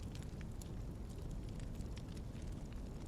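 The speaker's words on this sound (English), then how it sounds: "Oh yeah, the ambient noise of the fire." Ambient crackling of a fire in the video game Final Fantasy XVI, a steady dense noisy bed with scattered faint pops and crackles, continuous and low-level with no voices.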